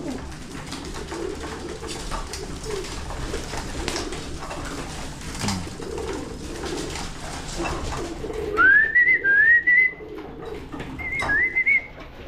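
Pigeons in a loft with a trapdoor, a low murmur of cooing and shuffling throughout, then several clear rising whistle-like calls near the end, fairly close, no talk.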